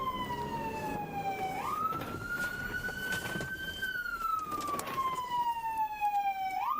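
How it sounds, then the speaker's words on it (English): A police siren wails nearby, sweeping slowly up and down in pitch over a low rumble of traffic, loud and continuous. "Way to kill the siren."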